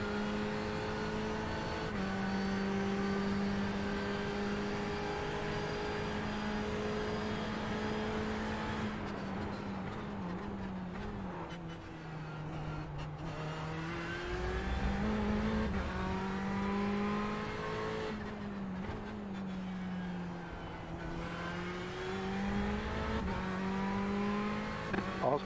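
A Ferrari 488 GTE race car accelerates in the iRacing sim, its engine revving steadily and loudly through repeated upshifts and climbing pitch over a continuous drone, with someone talking faintly beneath it.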